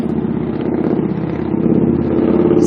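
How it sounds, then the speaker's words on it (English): A motorcycle engine drones steadily nearby, a continuous rough low hum that grows slightly louder toward the end. "You see the motorcycle?"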